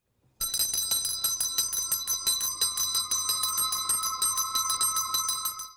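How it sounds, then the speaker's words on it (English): A bell in The Muppet Christmas Carol rings in a rapid, steady, bright metallic clatter, loud and close, sounding continuously for about five seconds after a brief silence. "And then his bell rings."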